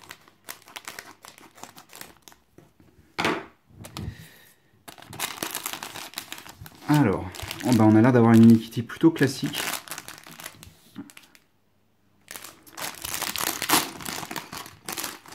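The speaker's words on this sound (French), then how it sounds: "Et je vous propose d'ouvrir ensemble notre premier sachet Unikitty." A plastic Unikitty blind-bag sachet is crinkled and torn open close up, with bursts of crackling plastic between stretches of French talk.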